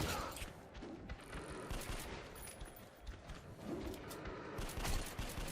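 Rapid automatic gunfire in the video game Metro Last Light Redux, a continuous rattling burst of shots with booming impacts, dense and unbroken throughout.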